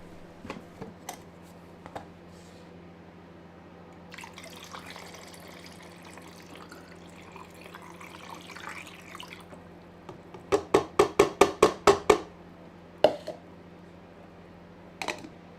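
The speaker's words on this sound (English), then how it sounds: "I'm going to pour it into my developing tank" Film developer made with seaweed pours steadily into a film-loaded developing tank for several seconds, then a quick run of sharp plastic clicks and a couple of single knocks follow.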